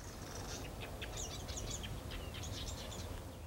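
Squeaky high-pitched chirps from a small bird in Arizona repeat in quick clusters over a constant low rumble of background noise.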